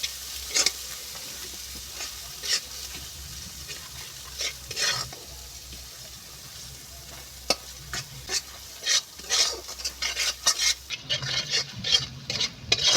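Fish curry spices with salt, turmeric and chilli being stirred and fried in a pan, giving a steady close sizzle broken by irregular scraping strokes of the spoon, with no talking.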